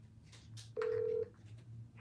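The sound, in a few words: telephone call dialing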